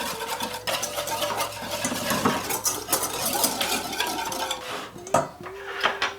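A whisk clinks rapidly against a bowl while it beats the liquid ingredients for chocolate muffins with vanilla extract, a busy metallic clatter up close, with a few sharper knocks near the end.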